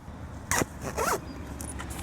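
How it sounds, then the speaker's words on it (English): A zipper is pulled along the door flap of a luxury pet seat cover in a car, two short rasping zips about half a second apart, close and clear, with no talking. "I'm just gonna show you guys how to zip them up, just to allow for that full protection of the door"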